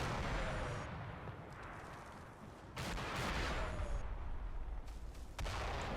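Mortar fire in a Combat Mission war game, a dense continuous rumble of distant explosions and crackling impacts, with a few sharper blasts standing out over the din.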